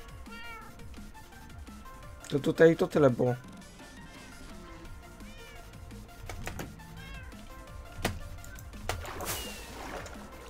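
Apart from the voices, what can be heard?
cats meowing in the video game Minecraft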